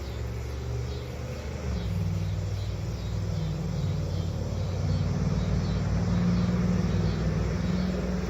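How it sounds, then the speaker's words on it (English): A loud car engine rumbles steadily throughout, a deep low drone growing slightly louder, with no voices. "Do you know how not fuel efficient that car is?"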